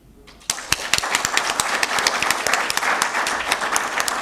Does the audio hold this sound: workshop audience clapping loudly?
yes